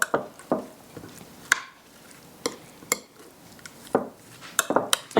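Meat is stirred around in a bowl to coat it, producing intermittent clinks and scrapes of a utensil against the bowl in uneven bursts, close and fairly quiet, with no talk.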